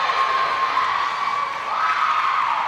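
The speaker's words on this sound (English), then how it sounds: "Nice block and a nice cheer." A crowd cheers after a block at a 2005 high school volleyball match between Shawnee and Carl Albert in Oklahoma, a loud, sustained roar of shouts and whoops filling the gym.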